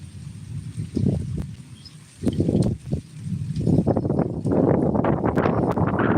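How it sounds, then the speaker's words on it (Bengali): Strong wind buffets the microphone in heavy low rumbling gusts that swell and drop, growing rougher and more constant toward the end. "কি হাওয়া দিচ্ছে জোরে জোরে"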